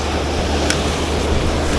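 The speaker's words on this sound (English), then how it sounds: "Hard to cast out on these rough waves." Rough ocean surf off a Jamaican shoreline, a steady, broad wash of crashing waves and wind noise filling the whole stretch without pause or voices.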